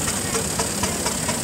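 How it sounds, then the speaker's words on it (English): A 4-inch scale Burrell miniature steam road locomotive named Persevere, built 2019, chuffs steadily with a rhythmic engine beat and hissing steam, running continuously at close range. "4-inch scale Burrell Road Loco called Persevere, built 2019"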